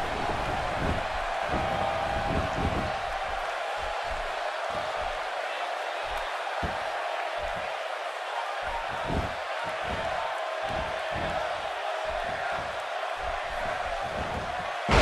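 Arena crowd buzzing in anticipation at a wrestling event in WWE 2K18, a steady wash of distant crowd murmur with repeated thumps and impacts, speech over the top.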